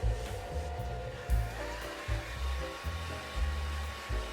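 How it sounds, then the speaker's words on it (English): A hair dryer drones steadily while blow-drying hair, a faint, soft airflow hum with slight fluctuations as it moves, no talking. "Blow dry is something which is not that easy to learn"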